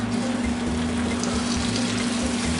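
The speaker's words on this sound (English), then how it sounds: "So just basically pour it in there and let it fry." Leftover boiled chicken fries in oil in a spicy Nigerian pepper sauce (ata), a steady hissing sizzle with a constant low hum running underneath, and no talking.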